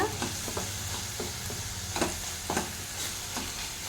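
Spinach frying in a pan, a continuous close sizzle broken by several scraping stirs at irregular intervals, with a low steady hum underneath and no talking.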